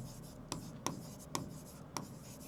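Pen writing on paper during a study session, a faint scratchy stroke sound with four sharp taps or ticks spaced about half a second apart, quiet and close.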